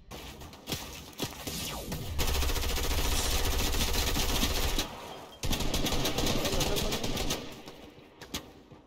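Rapid bursts of automatic gunfire in the video game Fortnite crackle loudly and continuously, with a brief gap midway, followed by scattered single shots.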